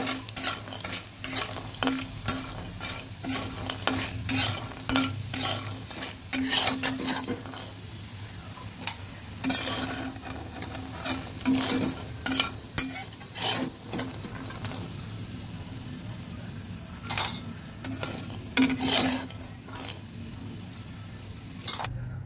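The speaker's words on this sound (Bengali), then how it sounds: "হালকা আঁচে বড়িগুলো ভেজে নেব।" Lentil dumplings (bori) frying in a pan over low heat, with steady sizzling broken by repeated close scraping and stirring strokes of a utensil against the pan, and no voices.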